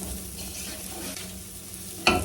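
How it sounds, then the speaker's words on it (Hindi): Red and green capsicum stir-fried in a pan, with a steady, close sizzle and stirring scrapes throughout and a sharper burst of frying noise near the end. "और अब हम इसको 3-4 मिनट के लिए इनको भून लेंगे"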